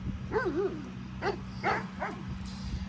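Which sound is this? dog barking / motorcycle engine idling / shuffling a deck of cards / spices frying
dog barking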